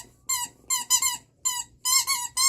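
Squeaky toy squeezed by a macaw, six or seven sharp high squeaks in quick irregular bursts, close and clear with no talking.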